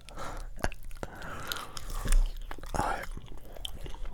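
Chewing gum being chewed close to the microphone in an ASMR setting, wet smacking and squishing bites in an irregular rhythm, with occasional louder snaps and soft breathy sounds between.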